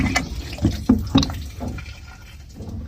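Water splashing and dripping while a cooking pot is washed in a provincial home kitchen, a few short close splashes and pours in the first half, then quieter trickling.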